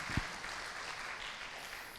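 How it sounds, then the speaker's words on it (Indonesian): A congregation at an online Sunday church service applauds with steady, dense clapping at moderate level, continuing evenly throughout with no talk on top. "Kita berikan tepuk tangan buat Tuhan Yesus yang baik."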